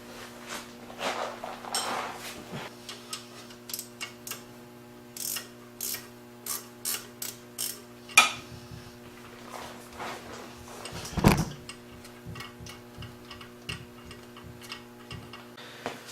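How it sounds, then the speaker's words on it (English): Small ratcheting wrench turning a bolt on a Honda Civic D15B/D17A engine, a series of faint, regular clicking ratchet strokes with occasional louder metallic clacks, close and quiet over a low hum. "you can actually remove that lower bolt easier by using a little ratcheting wrench like this from the bottom to take it off"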